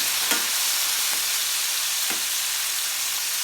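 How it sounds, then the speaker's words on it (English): Tomatillos and jalapeños fry in a pan with a loud, constant sizzling hiss, punctuated by a few brief scrapes as the mixture is stirred, heard up close with nobody speaking. "So again, stir everything up."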